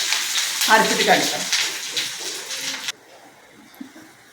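Chana dal roasting with salt in a pan, a close dry sizzle and scrape for about three seconds before it cuts off to near silence with a faint knock.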